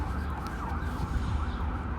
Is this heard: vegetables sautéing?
no